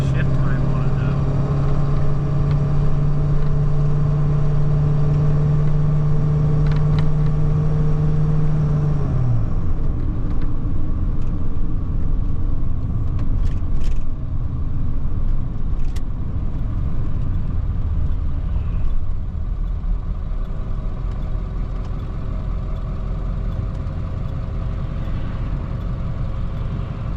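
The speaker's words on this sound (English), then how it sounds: "It does take off better than it has in the past. God, the transmission has such a long shift time on it though." A rig truck pulls away, its engine droning loud and close with a sustained whine that drops off as the slow-shifting transmission changes gear, and the rumble carries on afterward.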